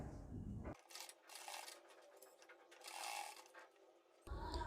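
A sewing machine stitches lace onto a kurti pattern, whirring in slow, even runs with brief pauses between bursts, close and quiet, with no talk.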